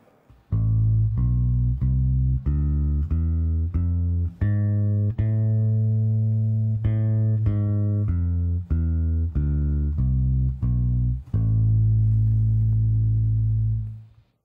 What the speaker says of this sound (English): I'm just going to play you an A harmonic minor scale so you can hear that sound